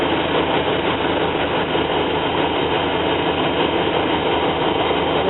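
A reassembled van engine idles in a steady, even low rumble that holds unchanged throughout, with no talk over it.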